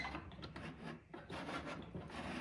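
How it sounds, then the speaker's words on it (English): A snowblower's shifter mechanism being worked by hand during repair, giving a close, continuous scraping and rasping of metal parts rubbing and sliding, with a brief pause midway before the grinding friction resumes. "I'm just gonna run this shifter just to make sure it functions"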